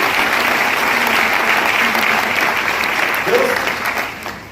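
Loud, sustained applause from a seminar audience honoring company co-founders at a Vestige success event, a dense wash of clapping that holds steady before tapering off at the end.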